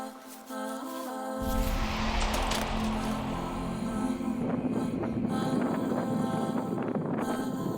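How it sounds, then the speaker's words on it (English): Wind sweeping across a sandy Korean seashore beach, a loud sustained roar with buffeting gusts on the microphone that rises after a quieter opening and stays steady. "The wind also carries sand."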